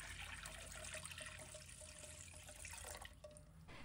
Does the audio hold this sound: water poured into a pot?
yes